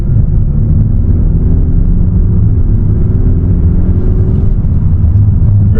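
A BMW 430i xDrive accelerates in comfort mode, giving a steady, loud cabin rumble of engine and road noise with a smooth rising drone and no talking.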